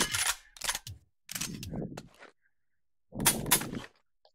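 Shells are loaded into a shotgun in the VR shooter game Pavlov VR, heard as a few short, separate mechanical clacks and clunks with silent gaps between them.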